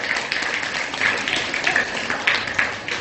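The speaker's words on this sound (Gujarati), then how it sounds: "તો પાછી તાળી પાડી દો." A group of children claps hands together at a gathering, producing steady, dense applause that fills the whole stretch without pause.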